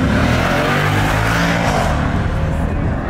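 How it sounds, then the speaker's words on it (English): A Lamborghini accelerates hard through repeated full-throttle pulls at a performance event, its engine roaring loud and close, steady and sustained with no speech over it. "He's just doing pull after pull after pull."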